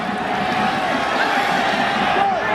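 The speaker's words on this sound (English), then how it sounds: "An uneasy feeling here in the crowd in Columbus, some murmuring going on" Low crowd murmur spreads through a stadium in Columbus during a USA–Mexico soccer match, a continuous broad rumble of voices with a commentator talking over it.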